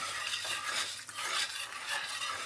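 Bicol atay-atay with evaporated milk is stirred in a pot, giving a continuous wet, swishing scrape of the spoon through the thick mixture, close and steady, with faint sizzling beneath and no talking.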